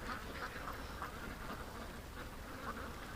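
Several ducks quack repeatedly in short clustered calls, moderately close, over constant outdoor background noise, no speech present.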